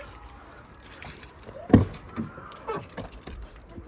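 Car keys for a Fiat 500 jangle close by in a few short metallic rattles, with one sharper clink in the middle and quiet room noise around them.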